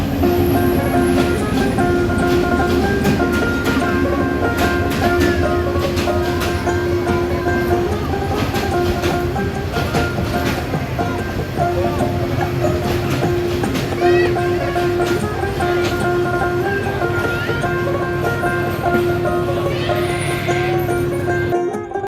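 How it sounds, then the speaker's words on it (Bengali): The Chattala Express train rumbles and clatters steadily along the tracks nearby as it arrives at Brahmanbaria railway station platform, with a hum of station noise and faint voices throughout. "আর এখন যে ট্রেনের প্ল্যাটফর্ম আসছে সেটি হলো চট্টলা এক্সপ্রেস।"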